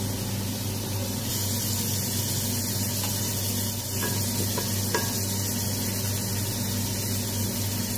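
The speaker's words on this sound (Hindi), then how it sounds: "अब इसमें डालते हैं मसाले।" Fish karahi stirs and sizzles in a pan as spices are added, giving a steady, close, broadband frying hiss with faint scraping taps and no talk.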